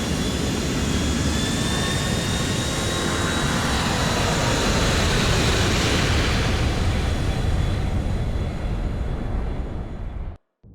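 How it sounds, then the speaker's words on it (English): In Grand Theft Auto IV, a jet plane takes off from an airport, a loud, sustained roar with rising whine that holds steady and then cuts off abruptly near the end. "Luis makes it to the airport just as Bulgarin's plane is taking off"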